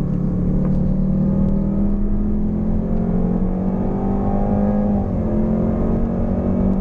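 A 2018 Jaguar F-Type S on a lap of the Autódromo Internacional do Algarve race track, its engine a loud, sustained droning roar heard from inside the car, pitch easing slightly toward the end, with no talking.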